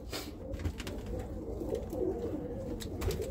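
Birmingham Roller pigeons in a breeding loft give low, steady cooing, several birds overlapping close by with no pauses and no talk.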